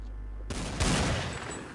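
Burst of video game gunfire, a sudden loud rattling volley that starts abruptly and rings out with a dense, sustained crackle for about a second.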